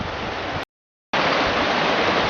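The River Roeburn rushes steadily over rocks near its bank, a loud, dense broadband wash close by, broken by a brief total silence before resuming.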